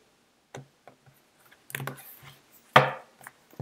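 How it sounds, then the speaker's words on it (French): A few dry, light taps and one sharper slap as a tarot deck is split in two and handled on a table, close and quiet with pauses between. "Donc je coupe le paquet en deux."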